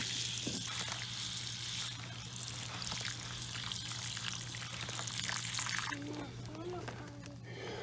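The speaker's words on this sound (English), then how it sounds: "Give it a nice watering there. Make sure all the soil is nice and moist." Water poured onto the potting soil of a mango seedling, a steady close trickle and splash with a constant low hum beneath, a brief voice toward the end.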